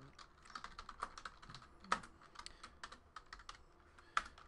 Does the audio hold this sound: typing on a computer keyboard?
yes